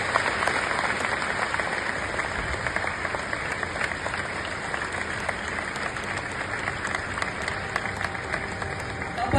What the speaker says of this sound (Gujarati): એ બદલ પણ આપણે એમનો તાળીઓ નાખી આપીએ